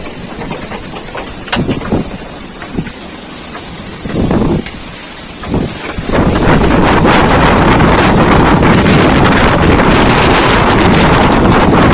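Strong storm wind roars and buffets the microphone outdoors around a tall casuarina tree at a house, with gusts in the first half building to a loud, steady, continuous blast from about six seconds on.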